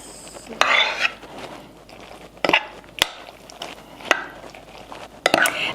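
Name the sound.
stirring pasta with vegan Alfredo sauce in bowl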